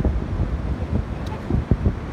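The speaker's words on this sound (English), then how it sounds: "Very windy" Strong wind buffets the microphone on the Holderness coast of Yorkshire, a continuous rough low rumble with a few heavier gusts.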